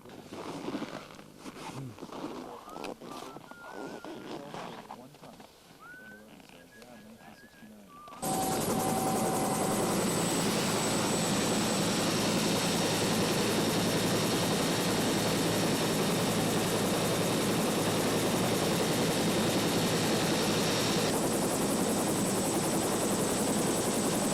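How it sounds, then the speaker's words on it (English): Helicopter engine at full power while hovering on a narrow ridge during heli-skiing in the Canadian Rockies, a steady loud roar with a whining tone. Partway through it cuts in abruptly after quieter wind and rustling, then holds constant. "The helicopter had to maintain full power as we unloaded on a ridge too narrow"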